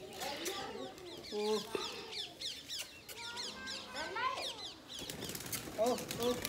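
Pigeons flutter and flap their wings in bursts while being fed grain, with cooing and clucking calls mixed in and a voice speaking briefly in the background.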